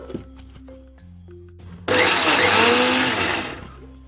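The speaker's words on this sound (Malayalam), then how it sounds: "ഞാൻ ഈ തേങ്ങ ഒന്ന് കറക്കി എടുക്കുകയാണ് കേട്ടോ." Mixer grinder jar spins up suddenly to a loud whirring roar as it briefly grinds coconut, running steadily for about two seconds before winding down, after a quieter stretch of low hum and light clatter.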